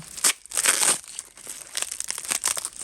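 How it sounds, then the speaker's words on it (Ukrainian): Crinkling and tearing of heavy tape wrapped around a small glass from a second-hand English porcelain haul, a close, continuous rustle with irregular crackling bursts and no talk. "рюмочка завернута дуже сильно скотчем, тому мені прям цікаво подивитись, що це в нас за рюмочка така"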